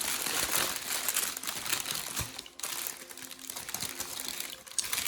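Wrapping paper around an oracle card deck crinkles and crackles up close in dense, irregular bursts, with brief louder crunches and a short lull midway as it is handled and unwrapped.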